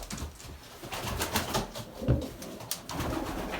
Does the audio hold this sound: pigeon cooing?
yes